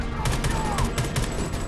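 Rapid gunfire from a firefight in the video game Homefront: The Revolution, a loud, dense run of overlapping shots that keeps going without letup, with no voices over it.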